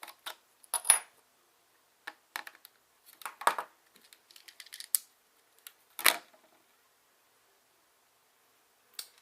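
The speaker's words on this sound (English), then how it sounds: "Still pretty stuck in there, so let's unscrew it a tad bit more." Plastic screws being worked loose from a Supermega Blaster toy, giving sparse, close clicks and small metallic ticks and scrapes in short bursts separated by quiet gaps.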